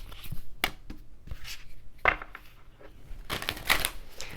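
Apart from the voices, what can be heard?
shuffling tarot cards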